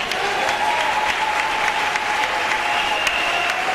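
Sustained applause from a church congregation during a sermon, steady dense clapping filling the whole stretch with no voices on top.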